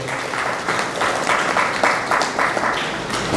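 Steady applause from a crowd at a graduation address, many hands clapping together in a dense, sustained wash that swells slightly in waves.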